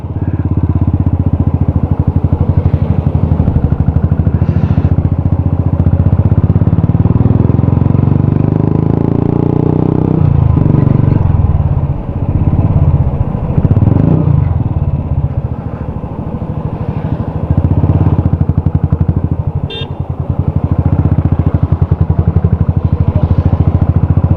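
A Royal Enfield Classic 350 motorcycle engine runs steadily and loud close by, with a deep, even thump that dips briefly midway before settling back to a constant rumble.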